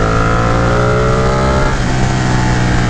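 Ducati Panigale 959 (2018) motorcycle engine pulling smoothly under steady acceleration during a ride, a loud continuous harmonic drone rising in pitch with a constant throttle, close to the rider and with no voices.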